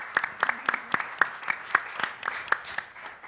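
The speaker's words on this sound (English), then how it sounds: "Give yourselves a round of applause for being here because you give a damn." Sparse applause from a small audience at a voting-rights panel, separate claps sounding fairly faint and uneven with a slight echo of the room.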